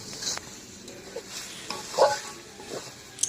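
Chicken and tomato fry in a pan while being stirred, giving a soft sizzle broken by a few scraping stirs and one louder clatter near the middle, with no talking.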